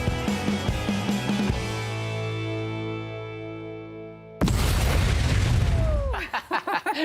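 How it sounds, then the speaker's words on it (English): A sustained musical tone fades out, then a sudden loud boom bursts in, followed by rumbling debris and crackling noise. "The explosion always gets me every single time."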